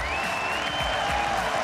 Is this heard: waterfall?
no